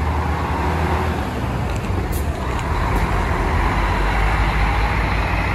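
A Garcia company G8 bus runs at the Franca bus station in São Paulo state, with a loud, continuous engine rumble and traffic noise and a few brief hissing releases, like air brakes.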